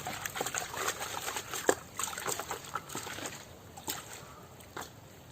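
Water trickles and sloshes as soil is rinsed from the roots of leafy greens being prepared for sale, quiet and close, with irregular splashes and dribbles throughout and no speech.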